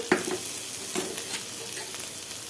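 Chopped garlic, green chili and tomato sizzle in hot oil in a pan. A few quick scrapes from stirring sit over a steady, fairly quiet crackle, close by and without speech.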